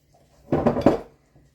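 A spoon stirs thick blueberry cream cheese muffin batter in a bowl, making a brief, close cluster of two or three dull scrapes and knocks.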